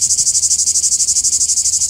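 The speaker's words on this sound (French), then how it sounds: "on va continuer à la recherche de ces merveilleuses cigales" Cicadas sing loudly and close by, a high, buzzing drone pulsing in a fast, even rhythm throughout, with no voices over it.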